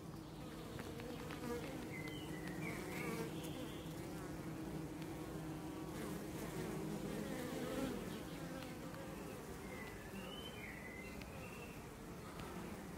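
Dense, steady buzzing of many honeybees fanning at a Kenyan top-bar hive close by, a continuous droning hum with a few individual bees whizzing past.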